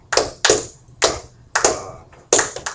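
Students clapping out a rhythm pattern, sharp close handclaps in an uneven sequence of about six, with a brief double clap near the end, no voices over them.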